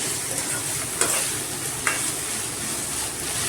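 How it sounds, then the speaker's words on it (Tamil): Grated raw mango sautéed in a pan for South Indian mango rice, with a steady low sizzle and a few soft scraping stirs of a spoon against the pan. "சேர்த்துட்டு மாங்காயை நல்லா நம்ம வதக்கிக்கலாம்"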